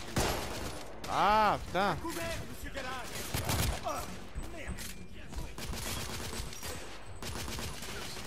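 Sniper and rifle gunfire in the video game The Order 1886, with loud sharp shots, mechanical clatter and echoing blasts scattered across a battle scene, mixed with a player's exclamations and game sounds.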